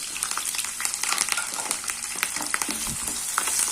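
Onions, garlic and curry leaves sautéing in hot oil in a pan for a brinjal and drumstick kara kuzhambu, giving a steady close sizzle with scraping stir strokes throughout and no talk.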